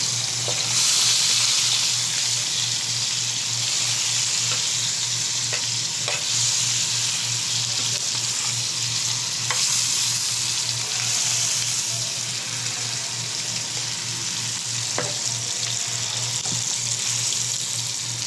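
Large octopus frying steadily in a pan, a continuous loud sizzle with occasional scraping clicks as it is turned over, no voices.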